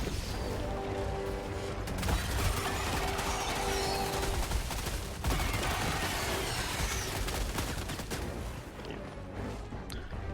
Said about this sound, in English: I can call in a turret to kill some minions while I'm stabbing them